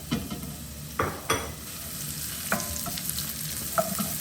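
Red onions frying in a non-stick pan give a steady low sizzle, broken by a few sharp clicks and scrapes as they are stirred.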